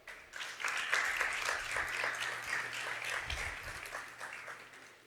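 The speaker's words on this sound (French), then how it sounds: "je vous demande de l'applaudir, s'il vous plaît" An audience claps for a speaker at an Eloquentia Port-au-Prince speaking contest, a dense, even burst of applause that swells quickly, holds, then thins toward the end.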